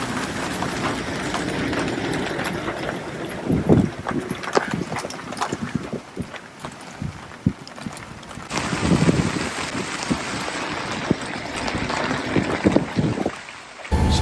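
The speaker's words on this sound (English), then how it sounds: "There's the rain." Steady rain hisses and patters over open water, with scattered heavier drops and splashes, continuous for the whole stretch with no talking.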